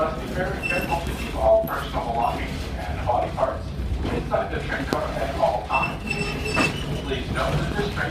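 The Stone Mountain Scenic Railroad train in motion gives a steady rolling rumble with faint clacks and squeaks, under a loudspeaker announcement voice that runs throughout.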